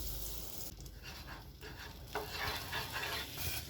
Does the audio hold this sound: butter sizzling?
yes